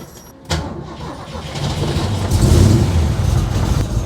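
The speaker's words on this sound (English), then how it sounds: "Classic muscle cars like the 67 Mustang were built to be heard. That rumble, that tone," A classic muscle car such as a 1967 Mustang fires up with a sharp crank, then settles into a loud, deep exhaust rumble that swells louder over a few seconds, with no talk.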